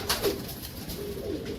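A pigeon coos softly nearby in a couple of short, low throaty calls against a quiet background.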